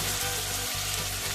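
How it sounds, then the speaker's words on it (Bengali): Capsicum fries in a hot pan for a soya manchurian, making a dense, continuous sizzle that stays loud and close throughout the short stretch. "ক্যাপসিকামটাকে ভেজে নেবো"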